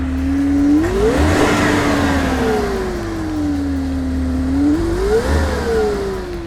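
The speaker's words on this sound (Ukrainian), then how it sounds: "Послухайте, зараз відкриємо і послухайте моторчик" A petrol engine in a Mercedes Sprinter or IVECO Daily van running at close range, its revs rising and falling in two or three smooth sweeps over a steady idle hum, with no voices.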